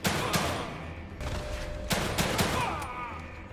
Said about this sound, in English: The shooting's very inaccurate because I'm not aiming directly where my dot is.